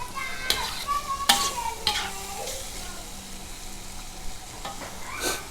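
Squid with eggs stir-fries with holy basil in a hot pan, sizzling steadily under several loud scrapes and clatters of a spatula, with faint voices in the background.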